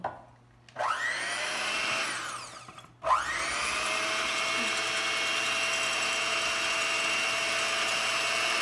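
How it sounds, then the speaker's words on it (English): A stand mixer whisks egg whites on low speed, its motor spinning up twice after brief stops into a steady close whir with a rhythmic clatter from the whisk. "You're going to want to beat the eggs on low speed for about 3 minutes until it gets foamy."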